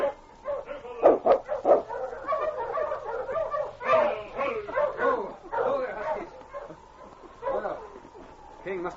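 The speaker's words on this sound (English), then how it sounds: "he heard the dog teams coming and saw Sergeant Preston and the constable" A husky sled dog team barks and yips in a rapid, irregular cluster of mid-distance barks, whines and yelps mixed with voices, in an old Yukon adventure drama setting.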